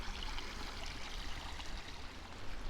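Water runs steadily through a gold prospecting sluice, a constant close rushing and trickling wash without pauses or voices.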